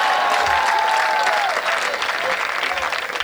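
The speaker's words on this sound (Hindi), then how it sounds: "एक बार माइक वाले के लिए ज़ोरदार तालियां हो जाए।" A crowd at a Hindi poetry recital applauds loudly and steadily for a few seconds, with whistle-like tones sliding above the dense clapping.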